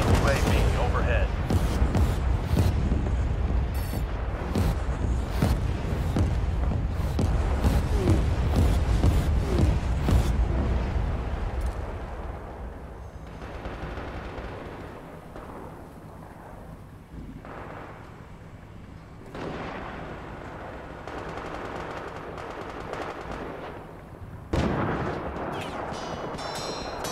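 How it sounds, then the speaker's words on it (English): Booming artillery fire and rapid gunfire in a war video game, a dense loud barrage of blasts for the first ten seconds, then fading to scattered distant thuds and wind rumble before one more sharp blast near the end. "Be advised, our artillery is commencing fire."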